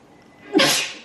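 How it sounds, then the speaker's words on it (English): A single sharp sneeze bursts out after a brief quiet intake, loud and close, then trails off. "about to sneeze."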